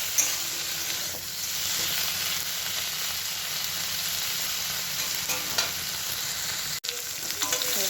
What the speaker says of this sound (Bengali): চিংড়ি মাছগুলোর জন্য পেঁয়াজ রসুন ভেজে নিচ্ছি